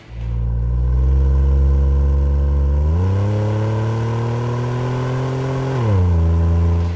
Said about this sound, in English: if you're looking for that lower, louder exhaust note